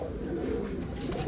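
A yellow Dheuka pigeon, a male, gives a low, continuous coo close to the microphone, with faint background noise around it.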